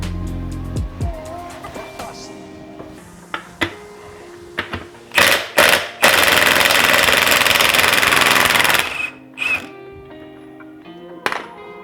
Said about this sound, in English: So I've got the 27mm socket on my Milwaukee Impact. We're gonna crack this thing loose and see how it goes.